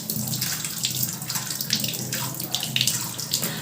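Hands are rinsed under a running tap, with a steady close splash of water broken by irregular bursts as the hands move through the stream, plus a faint low hum underneath.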